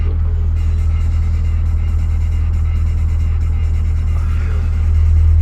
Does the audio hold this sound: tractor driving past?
yes